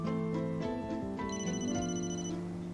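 A mobile phone ringing with a bright melodic electronic ringtone, its looping tones loud and close and filling the whole moment without any talk.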